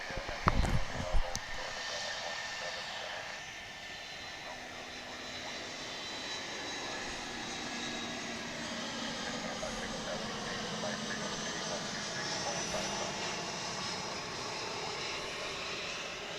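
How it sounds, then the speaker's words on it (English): An American Airlines Airbus A319 jet arriving at DFW International Airport, a steady, broad roar of engine noise holding for the whole stretch, with a brief louder burst near the start and some voices mixed in. "we will be focusing in on a flight coming in from Mexico. It's American Airlines 1924. A minibus, A319,"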